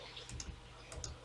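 Two quick mouse clicks, a couple of light taps each, land near 0.4 and 1.0 seconds while digitizing river edges on a Google Earth image in ArcGIS software, close and quiet over a steady low hum.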